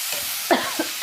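Tomato and onion pieces cook down in a pan with a soft sizzle, broken by a few short stirring scrapes near the end.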